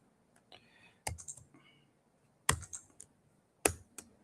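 Bursts of computer keyboard typing with keys clicked in quick clusters, separated by short pauses in an otherwise quiet room at a working desk, while the typist switches between two computers.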